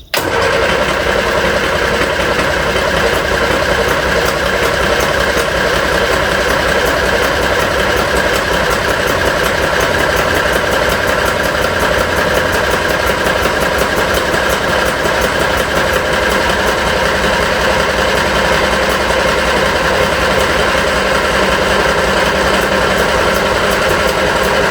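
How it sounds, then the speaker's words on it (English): A petrol engine in a Reliant Regal Supervan cranks and fires, then runs steadily with a loud, continuous mid-pitched drone and vibration for the whole stretch, with no speech over it. "I need to be in here to turn the key, and Dan's under there doing the choke and the throttle. If it starts"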